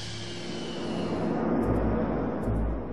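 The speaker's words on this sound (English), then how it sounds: "the president's command post for waging nuclear war taxied to the runway" Nuclear command post aircraft taxiing toward the runway, a steady broadband jet engine roar that swells in low rumble partway through, continuous and fairly close with no talk.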